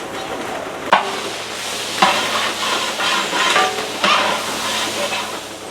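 A large batch of onions sizzles loudly with salt in a big pan, and a spoon or ladle stirs and scrapes through them in periodic strokes over a steady frying hiss.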